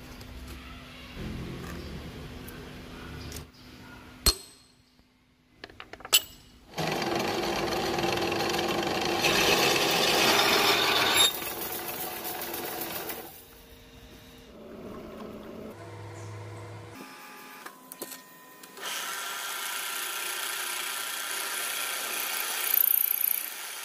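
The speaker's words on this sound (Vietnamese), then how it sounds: "mình sẽ khoan một lỗ lệch tâm để làm tay kéo có nguyên lý đẩy lệch tâm" A power drill bores an off-center hole through a round steel flange for a pipe-notching punch tool, its motor whining in two long loud bursts separated by short pauses and clicks, with no talk.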